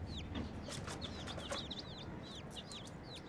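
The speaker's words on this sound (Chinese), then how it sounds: "你快看，小鸡。" Small chicks, newly bought, cheep in quick, high, repeated peeps that sound close and fairly clear over a quiet indoor background.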